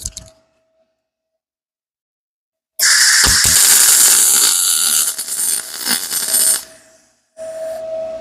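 Tack welding a steel turbo intake elbow for a budget turbo build: after a silent pause, a loud, close, crackling burst runs about four seconds and breaks up unevenly, followed by a low hum and a shorter buzzing stretch.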